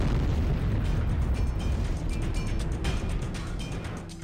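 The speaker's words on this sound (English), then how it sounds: "the explosion could come from inside the Earth, a freak eruption of volcanic gas" A deep, sustained explosive rumble like a volcanic gas eruption, used as a sound effect for the Tunguska blast, roaring loudly throughout with crackling bursts before easing slightly at the end.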